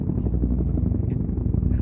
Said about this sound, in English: Paul, can you throw some helicopter noises in here?